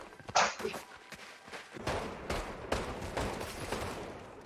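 Gunfire in Fortnite, a faint scatter of shots and thuds mixed with muffled talk in the background.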